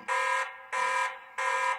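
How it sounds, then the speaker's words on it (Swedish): A Tapo C200 security camera sounding its intruder alarm, a loud harsh buzzing siren in three evenly spaced bursts of about half a second each, close and alone with no talking. "Jag larmar där för han känner att det är en inbrottstjuv."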